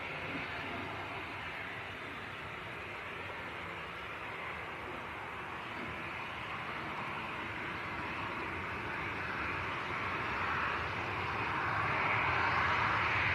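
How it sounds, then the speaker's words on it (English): A departing aircraft passes close at Leeds Bradford Airport, a steady broad jet roar that swells gradually louder toward the end. "For the departures, we get some really close-ups as they come past."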